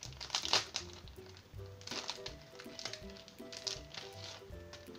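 Packaging wrapped around a handmade card being pulled open, close crinkling and crackling of plastic or paper in several bursts over soft background music.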